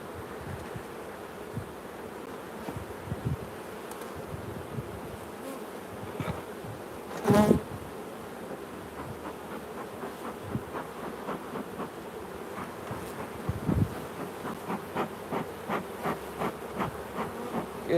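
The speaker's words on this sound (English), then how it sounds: "Definitely have 1, 2, 3-ish frames of bees." Honeybees buzz around an open beehive during an inspection and repair, a steady close insect drone with a louder pass near the middle and scattered handling knocks.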